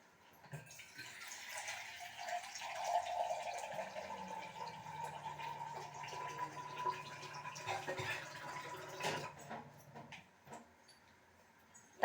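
Water poured into a cooking pot while making sambar rice, four tumblers of water for each tumbler of rice; a steady, moderate pouring and filling sound runs throughout with no talking.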